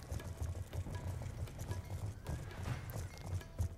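Horse galloping at full speed in the Black Ops 2 campaign, a rapid rhythmic clip-clop of hooves running steadily throughout with mechanical game noise mixed in.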